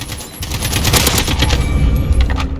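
AK-47 rifle fire in a first-person shooter video game, continuous rapid automatic bursts, close and loud throughout, with no speech.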